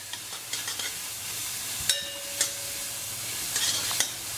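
Onions fry in a pan for chicken Banjara with a soft, steady sizzle, and a utensil scrapes and taps against the metal as they are stirred.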